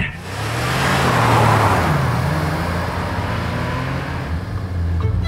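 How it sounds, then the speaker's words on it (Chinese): A car engine revs up and holds a steady, loud drone with shifting low harmonics as the vehicle pulls away and accelerates, heard close and alone without any talking. "这引擎的声音太迷人了"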